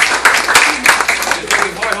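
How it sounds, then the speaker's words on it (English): Close, loud clapping from a school poetry show audience, a dense patter of many hands with a few sharper individual claps standing out, steady from start to finish. "I want to give a round of applause to Alexis"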